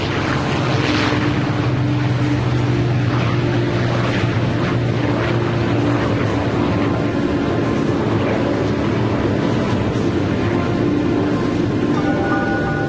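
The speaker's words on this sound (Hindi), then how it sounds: "B-29 सुपर फोर्ट्रेस बॉक्सकार ने उड़ान भरी।" B-29 Superfortress bomber taking off, a continuous loud propeller-engine roar that holds steady throughout, with no voices.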